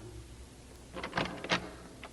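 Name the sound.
door being opened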